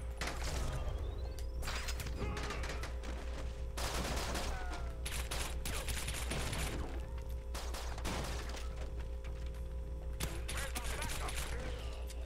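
Gunfire in Robert Ludlum's The Bourne Conspiracy game, a string of sharp close shots and clattering bursts over a steady low hum, with mechanical clicks between the volleys.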